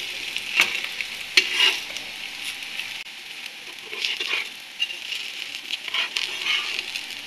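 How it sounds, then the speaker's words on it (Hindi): Bread rolls fry in a pan with a soft, steady sizzle and crackle, broken by scattered louder pops and a few stirring scrapes, no voices. "फ्राई हो रहे हैं।"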